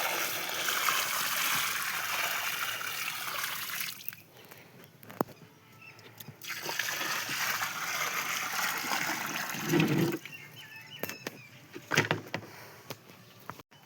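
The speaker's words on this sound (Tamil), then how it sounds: "தண்ணி இது மாதிரி ஊற்றிக்கும்" Water is poured into a lotus planting tub at home, producing a rushing, splashing flow that stops and restarts, with a few light knocks and clatters in between.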